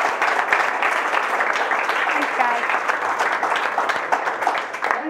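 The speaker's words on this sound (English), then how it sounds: "let's give a real big round of applause for Mariske" Audience applause at an evening Food for Thought event: dense, steady clapping from a large crowd, loud and continuous for the whole stretch with no break.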